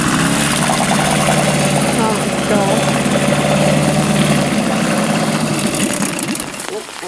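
A small outboard motor drives a bathtub boat, a loud close buzzing drone that holds steady before dropping away near the end, with a voice briefly exclaiming.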